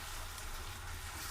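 Chopped tomatoes go into a spice masala frying in oil for chicken curry, giving a soft, steady hiss of sizzling in a pan, quiet and continuous with no voices.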